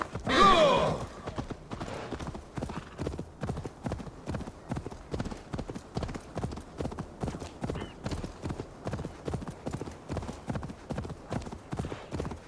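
Horse hooves clip-clop in a steady, even rhythm as a mount is ridden in the video game Assassin's Creed Valhalla, with a brief louder burst at the start and the regular beat continuing throughout.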